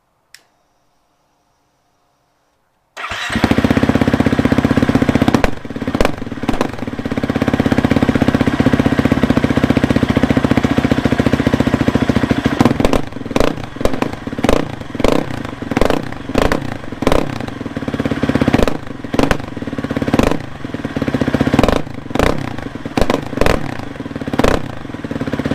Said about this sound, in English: Here's the open Pro Moto Billet with the spark arrestor.